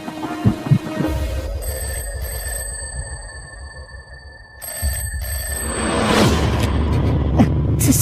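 A telephone rings in two electronic bursts with tonal trills separated by a short pause, fairly loud and close, over a low rumbling background that swells toward the end.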